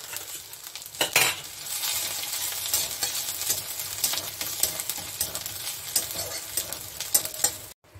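Ginger and radhuni seeds sizzle in hot oil in a pan along with fenugreek seeds while cooking bitter gourd and drumstick matar dal, a steady frying hiss with occasional stirring clinks and scrapes throughout.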